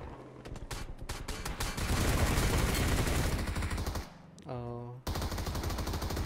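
Gunfire in the video game PUBG Mobile: a loud burst of rapid automatic shots that runs into dense sustained fire, with a brief tonal sound effect near the end and then more shooting.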